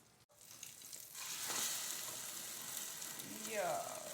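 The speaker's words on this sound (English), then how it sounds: "our eggs are cooking" Eggs frying in oil in a pan, a soft, steady sizzle that starts after a brief bump and continues close and quiet, with faint clatter near the end.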